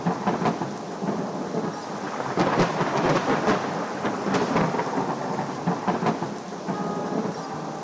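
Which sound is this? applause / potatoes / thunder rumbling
thunder rumbling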